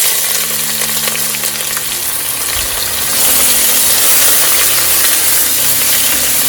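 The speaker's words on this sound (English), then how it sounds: "And we'll cook our onions till they are nice and brown in color." Onions frying in melted sugar with cinnamon sticks, cloves and cardamom for a Bengali mutton kosha make a loud, continuous sizzle and hiss that swells slightly partway through, heard alone with no talk.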